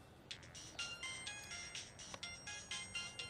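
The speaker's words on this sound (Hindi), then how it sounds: "किसका फोन है?" A phone ringtone chimes in a repeating electronic pattern of short bright tones, fairly loud and close, with no talking over it.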